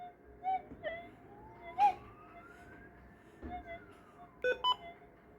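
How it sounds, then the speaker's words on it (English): Short electronic beeps from an Algoforce E1500 Plus metal detector sound in small clusters, including a quick pair near the end, over a faint steady tone in a quiet setting. "We heard the 2 beeps."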